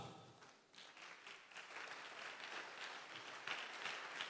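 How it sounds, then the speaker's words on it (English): A conference audience applauds steadily for a few seconds, a dense, fairly faint wash of many hands clapping at once with no voices over it. "I thought you should clap."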